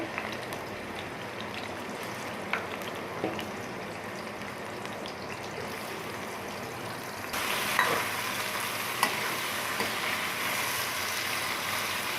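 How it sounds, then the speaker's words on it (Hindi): Taro root (arbi) fries in oil with a steady, hissing, wash-like sizzle that grows noticeably louder partway through, continuous and without talk. "अरबी को हमने 2-3 मिनट के लिए फ्राई कर लिया है"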